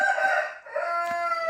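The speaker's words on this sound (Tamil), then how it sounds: "இந்த சேவல் வேறு." A rooster crows once in a long, drawn-out call over a village soundscape, loud and fairly close, with no talking.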